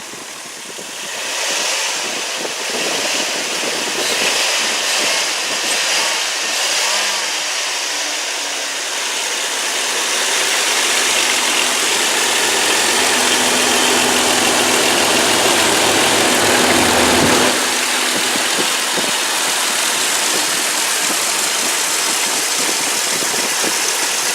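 A 3.3 liter V6 in a 2001 Dodge Grand Caravan Sport idles steadily and is then revved up, the engine note rising into a sustained high drone before easing back toward idle, with no one talking.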